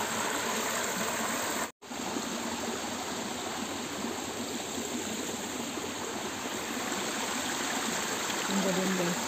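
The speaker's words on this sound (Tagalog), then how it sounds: "Ito ang naririnig kong lagaslas ng tubig" Water rushing over rocks in a stream near a waterfall, a steady broadband roar that fills the whole stretch, loud and close, with one brief dropout near the start.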